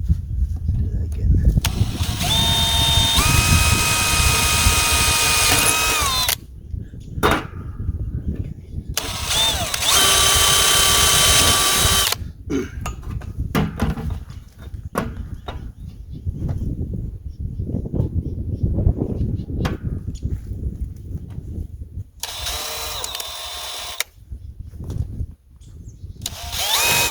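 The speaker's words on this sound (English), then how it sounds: "Actually going to drill through" A power drill bores through the metal of a deer feeder in bursts of high, whining motor spin separated by pauses, with lower clunks and handling noise between the runs.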